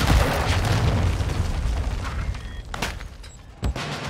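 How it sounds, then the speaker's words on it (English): A cruise missile blast in a first-person shooter game erupts as a loud, close boom with a long rumbling tail, followed by a couple of sharper bursts as it fades. "Hostile cruise missile launched."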